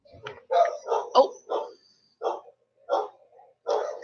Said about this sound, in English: Bear with the dogs in the background for a minute.